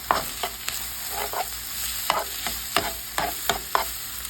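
Mild sausage frying in a pan hisses steadily while a spoon stirs and scrapes it, giving sharp irregular knocks over the sizzle, close and moderately loud, with no talking.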